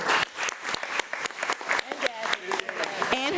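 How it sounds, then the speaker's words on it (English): A board meeting audience claps in a dense, continuous round of applause, with scattered cheers and a voice rising over it near the end. "So let's give Victoria a round of applause."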